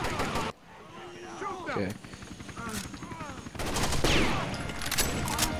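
Gunfire in the shooter game Rainbow Six Vegas 2: dense bursts of automatic shots, loud and close, with people talking over the fire throughout.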